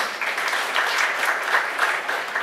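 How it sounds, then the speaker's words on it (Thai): An audience at a training program for new researchers claps in a sustained, even wave of applause, moderately loud and steady throughout with no voices rising above it. "ผมขอเสียงปรบมือด้วยครับผม"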